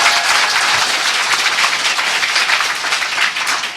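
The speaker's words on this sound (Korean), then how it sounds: "박수 한번 부탁드리고요" A seated audience at a live talk-show taping breaks into loud, sustained clapping, a dense, even wash of applause that carries on for several seconds without anyone speaking.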